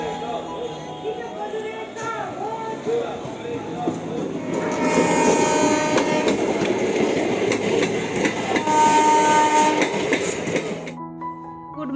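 A train at a small railway station in Nadia district, its rolling rumble and clatter growing louder through the middle and then cutting off abruptly near the end, with some voices around.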